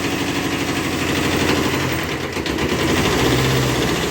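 A cold Kubota B5001 two-cylinder, water-cooled mini tractor idles in freezing weather, making a loud, steady, rhythmic chugging that runs unbroken from start to finish.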